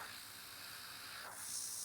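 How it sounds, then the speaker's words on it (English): Airbrush spraying nail art onto flower petal designs, a soft continuous hiss of air that swells brighter and louder near the end, close and alone. "As you can see, I'm spraying only"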